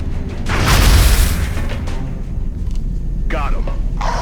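A gunshot fired in the turn-based strategy game X-Com: Enemy Unknown, a loud booming blast with a long rumbling tail that fades under ongoing background sound.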